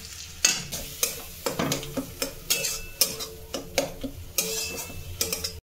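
Pointed gourd pieces tossed into hot oil after frying until brown, sizzling steadily while a utensil scrapes and stirs the pan in repeated close, sharp strokes.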